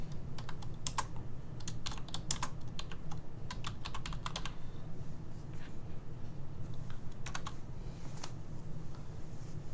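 Keys clatter in quick irregular bursts on a computer keyboard over a steady low hum, pausing briefly before a few more taps.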